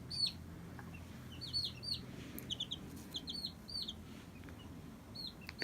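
Wyandotte chicks in an indoor brooder, giving soft high peeps and chirps in scattered bursts over a low steady background hum, fairly faint and close.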